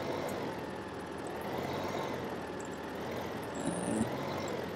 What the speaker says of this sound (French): T'as ton tracteur, il fait du bordel